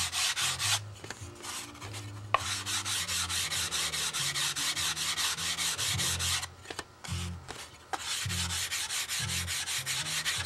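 Steady close-up rubbing and sanding on a wooden cowl block for a model plane wing, continuous abrasive strokes with a couple of brief pauses, no talking.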